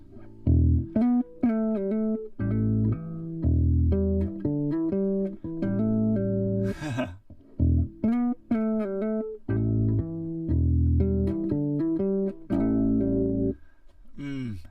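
A melodic bass guitar line played alone, two phrases of plucked notes in a steady rhythm with a short pause between them.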